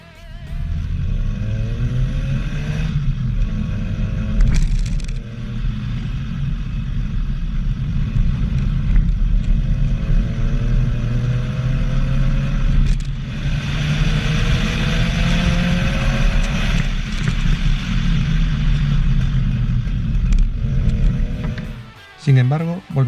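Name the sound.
1983 Ford Escort MK3 RS 1600i car engine running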